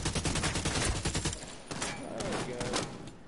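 Rapid volley of gunfire from an M32 rotary grenade launcher, dense loud bursts crowding the first second and a half, then a rougher, more scattered stretch of blasts and echoes.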